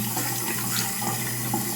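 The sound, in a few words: faucet running water after tankless water heater install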